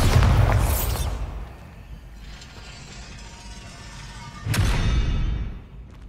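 Two booming blasts from the Bombarda explosion spell in Hogwarts Legacy, one at the start and another about four seconds later, each followed by a rumbling decay, with quieter mechanical rattling between them.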